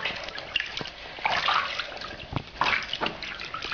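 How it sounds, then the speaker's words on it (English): A Webkinz plush toy is pushed down and soaked in water, giving a few close sloshes and splashes between quieter trickling moments. "the first thing you want to do is get that Webkinz wet by putting it in water"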